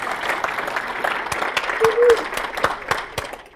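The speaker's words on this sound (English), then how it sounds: "let's give everybody a hand and let's have a cheer for being here right now." An audience applauds at a talk, a dense, steady patter of many hands clapping close by, with a brief vocal cheer rising in the middle before the clapping thins toward the end.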